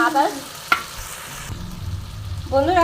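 A paste of ginger, garlic and green chilli hits a hot pan with a soft, steady sizzle after a sharp tap, and a voice briefly at the start and end.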